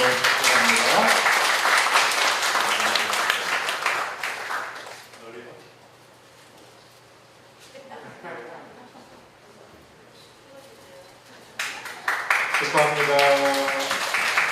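At a Baptist pastor's inauguration ceremony in a church, a congregation breaks into loud applause, which fades into a quieter stretch with voices before a second burst of clapping swells at the end.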